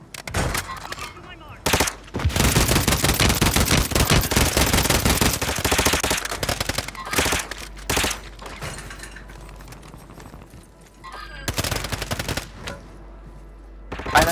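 Gunfire in the Warzone 3 video game: dense automatic bursts rattle loud and continuous for several seconds, then sparser shots and short volleys follow, with a player's voice talking over parts of it.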